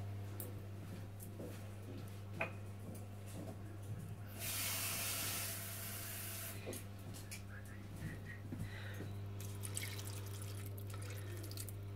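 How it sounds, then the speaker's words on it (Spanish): Water runs from a tap into a pan of asparagus, a steady hiss lasting a couple of seconds, with someone talking before and after and small kitchen clatter. "Y ahora los vamos a cubrir de agua."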